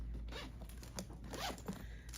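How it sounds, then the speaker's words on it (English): A zipper on the top of a knitting project bag is drawn open in a short, quiet, close zip of a couple of seconds. "It has a zippered top,"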